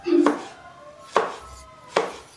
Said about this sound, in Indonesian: Kita iris tipis-tipis.